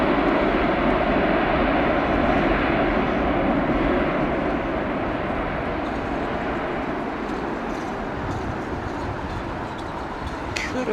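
A Boeing 787 airliner at London Heathrow Airport, heard as a loud, steady broadband jet roar that fades slightly over about eleven seconds, with no talking.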